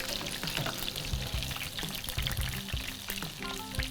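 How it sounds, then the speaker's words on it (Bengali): Chicken pieces for chicken manchurian deep frying in hot oil until brown make a steady, close crackling sizzle with continuous bubbling and small pops throughout, with no talking. "ওকে, এটা একটু ব্রাউন করে ভাজতে হবে।"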